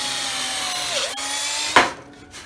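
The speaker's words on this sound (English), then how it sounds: "and do your drilling through." A close power drill whirs and bites into wood, its pitch dipping under load, followed by a short scraping burst as the bit breaks through.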